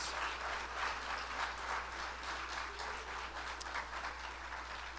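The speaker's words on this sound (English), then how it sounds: "Please give another round of applause to all our seniors and their honorees" Audience applause for graduating seniors and their honorees at a college honor walk ceremony, a steady, moderately faint wash of clapping from a crowd throughout, over a low constant hum.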